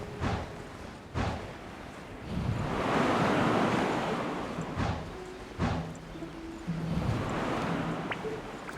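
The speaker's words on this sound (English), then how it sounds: "There's wind up ahead!" Wind blowing in a steady broadband rush that swells into stronger gusts midway, broken by a few sharp thumps, with no voices.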